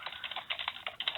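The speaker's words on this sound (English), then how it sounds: "Sorry, I have a loud keyboard." Fingers type quickly on a loud computer keyboard, a close, rapid run of sharp clicking keystrokes with short irregular pauses and no talk.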